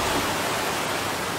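Floodwater rushing through city streets in Cagayan de Oro after heavy rain, a loud, constant broadband roar of fast-moving water, steady and unbroken with no voices.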